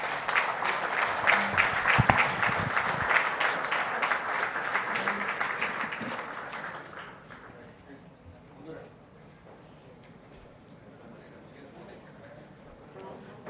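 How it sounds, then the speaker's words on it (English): Crowd applause at a government project presentation in Telangana, a dense wash of clapping for the first half that fades out, leaving quiet room murmur and faint voices. "Can I request you all to welcome him with a round of applause, please?"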